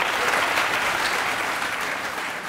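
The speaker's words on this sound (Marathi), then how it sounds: "टाळ्या वाजवा माझ्यासाठी यार" A studio audience at the Aap Ki Adalat TV show applauds Anu Malik, a dense, steady wash of clapping that holds evenly through the short moment, with no voices over it.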